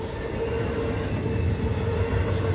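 Freight train I158 Ohio-Baltimore with 472 axles rolls past near Voorheesville, a loud continuous rumble of wagons and wheels with a steady tonal whine on top and no voices.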